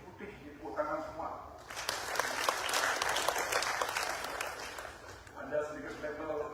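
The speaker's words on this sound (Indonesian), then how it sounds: "wah ini tepuk tangan juga ini" A crowd at the installation ceremony for the Badung regency sports committee claps in a dense burst of applause that swells and then fades, with someone speaking before and after.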